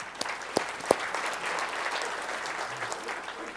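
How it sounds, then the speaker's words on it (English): Steady applause from an audience at a financial firm's client economic event, a dense wash of clapping with a few sharper claps standing out near the start. "let's give him a big round of applause"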